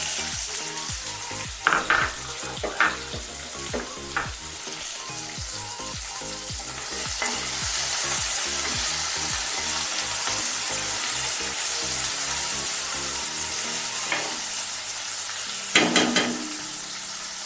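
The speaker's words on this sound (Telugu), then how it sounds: "ఇలా చిటపటగా వేగాలండి" Chopped onions fry in hot oil for a drumstick-leaf dal, a close, steady crackling sizzle with occasional louder spatters and utensil clinks as they are stirred.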